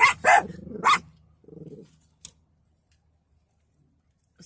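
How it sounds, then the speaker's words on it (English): A dog lets out a few sharp close barks in quick succession, then a low growl, a short bark and a brief distant yap, with silence in between. "It is a dog."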